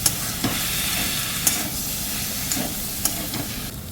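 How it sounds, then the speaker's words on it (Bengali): Potato with spices being stirred together for a stuffed roti filling, with a broad, steady hiss underneath, close and fairly loud, marked by a few sharp utensil clicks at irregular moments and no talk. "এবার সবগুলোকে একসঙ্গে ভালো করে মিশিয়ে নেব।"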